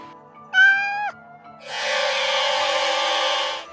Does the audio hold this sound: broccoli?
no